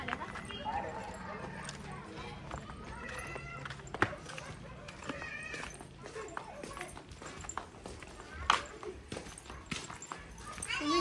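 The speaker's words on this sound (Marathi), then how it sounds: "कुणाचा घोडा चालाय?" A horse walks nearby, its hooves clip-clopping in scattered, uneven beats. People talk over the sound throughout.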